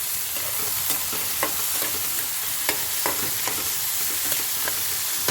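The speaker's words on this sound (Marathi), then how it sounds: "टमाटाचा मस्त परतवायचा आहे आणि त्याच्यामध्ये ही भाजी टाकून देऊया" Vegetables and tomato fry in a pan with a loud, continuous sizzle, while a spoon stirs them in regular scraping strokes throughout.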